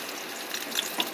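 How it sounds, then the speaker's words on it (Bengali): Potato pieces frying in a pan alongside meat give a steady, moderately quiet sizzle with a few small pops and crackles near the end, no voices. "আলু ভাজা হয়ে গেছে মাংসের"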